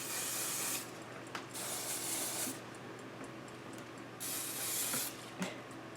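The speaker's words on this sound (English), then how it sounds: "Maybe I should put some spray on the buns themselves." Hairspray hisses from an aerosol can in two long bursts with short pauses, plus a few small clicks and taps nearby.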